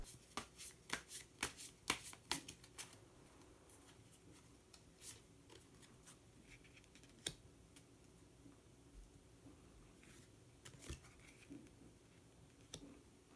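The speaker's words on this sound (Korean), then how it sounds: "그러면 히든 카드를 한 장 더 뽑아보도록 하겠습니다." Tarot cards being shuffled and a hidden card drawn, heard as a run of crisp riffling clicks and flicks, busier at the start and then sparser, close and fairly quiet with no talking.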